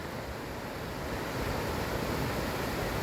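Water from a waterfall rushes steadily in a beech forest in Ordesa, near the Soaso cascades, as a dense, continuous roar close by with no pauses.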